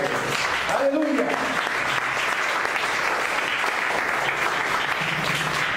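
A church congregation claps together in a sustained, dense round of applause during a sermon, loud and steady throughout without a break.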